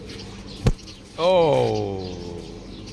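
Pigeons on a rooftop, one near bird giving a drawn-out descending call after a brief sharp click, with a faint voice nearby.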